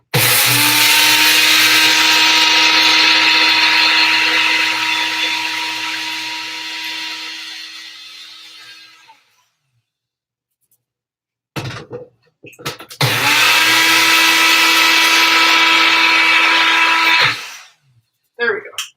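Loud motorized grinder whirring as flaxseed is milled into meal in a home kitchen, a long run that fades out, then a second short burst after a pause, with a few clicks between.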